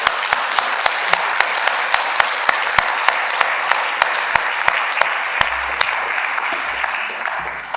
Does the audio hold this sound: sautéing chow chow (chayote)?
no